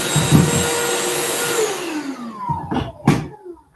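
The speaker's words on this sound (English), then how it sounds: "Are you vacuuming your house?" A household vacuum cleaner roars loudly and steadily, switched on by mistake, then its motor winds down with a falling whine. Two brief clunks follow near the end, all close to the microphone.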